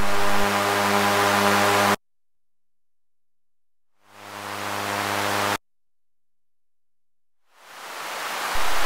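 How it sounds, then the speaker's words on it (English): Bursts of steady synthesized hiss alternate with silence, a droning tone leading in and the noise swelling up loud each time it returns. "Here we can add white noise."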